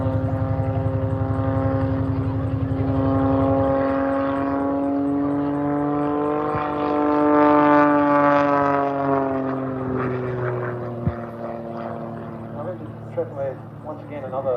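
An aerobatic plane, an Extra 330-type, flies at the Aldinga airshow with a loud, droning propeller engine whose pitch slides up and down as it maneuvers, heard under an announcer's commentary throughout.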